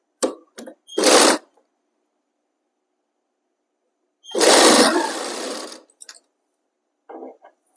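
A sewing machine stitches a folded seam on fabric for a kachhera undergarment, running in short loud bursts: two quick spurts, a longer run of about two seconds, then a brief final burst, with silence between.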